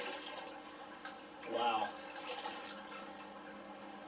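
A dirty aquarium canister filter sponge from a Fluval FX6 is squeezed, sending a brief gush of water splashing out midway over a quiet watery background, with a short spoken exclamation.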